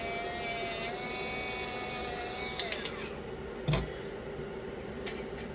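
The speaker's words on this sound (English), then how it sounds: "don't overdo it with your sander because it will take it off a lot quicker" Wood is sanded with a power sander on a snow speeder engine model, a steady close whirring hum with a few sharp taps and knocks toward the end.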